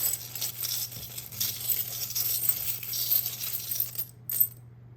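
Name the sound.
tiny die being rolled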